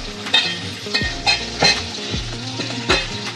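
Oil sizzling loudly as boal catfish pieces fry and are lifted out in a Bengali curry pan, with clinks and scrapes of a utensil against the pot at irregular intervals.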